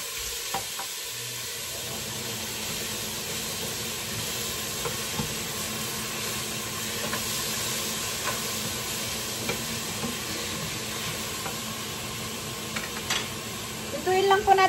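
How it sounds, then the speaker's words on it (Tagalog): Shrimp for sotanghon soup sizzling in a hot pan, a constant frying hiss with occasional stirring clinks and scrapes, with a voice speaking now and then over the cooking. "Lutuin lang po natin yung hipon."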